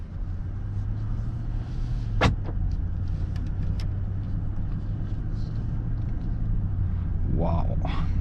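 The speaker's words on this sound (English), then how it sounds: "car put into drive." Inside a 2021 Maybach GLS600 SUV, a low steady engine hum with a sharp click as the handbrake is released and it is put into drive, then it rolls off smoothly; a person speaks briefly near the end.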